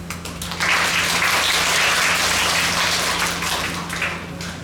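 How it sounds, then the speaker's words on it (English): An audience gives a warm round of applause as temple festival performers from Penghu and Donggang take the stage. The loud, dense clapping swells after a brief quiet start and then eases off toward the end. "please give a warm round of applause as we present the Master of Penghu versus Wu Wangye, now on stage"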